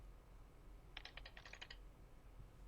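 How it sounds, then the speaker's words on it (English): A quick burst of about a dozen light computer keyboard keystrokes in a fast, even rhythm, typing a short word into a password text box, close and clear against a quiet background. "Type Windows in the text box."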